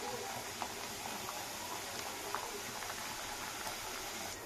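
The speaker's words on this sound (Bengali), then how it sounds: "এইভাবে এগুলোকে আমি ভেজে নিচ্ছি" Nimki snacks fry in hot oil with a soft, steady bubbling sizzle and scattered faint pops, heard close and quiet with no talk.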